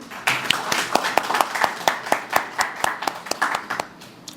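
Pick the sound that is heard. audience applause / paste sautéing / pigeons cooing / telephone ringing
audience applause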